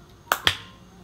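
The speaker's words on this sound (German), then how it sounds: "Ich klatsche mal kurz in die Hände." Two sharp hand claps in quick succession, close and loud, then quiet.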